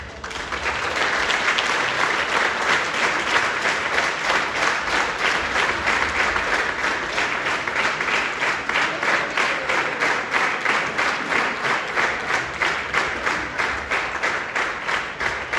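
Audience applause fills a hall after a choir performs at a Vaidava choir's 55th anniversary concert, a dense, steady clapping that starts quickly and holds evenly loud for the whole stretch with no talking.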